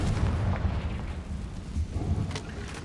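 Loud rumbling explosion from the Confringo blasting spell in Hogwarts Legacy, a deep booming roar that swells, dips, then surges again over a few seconds, with no voices.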